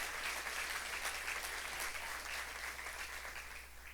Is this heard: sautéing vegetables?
no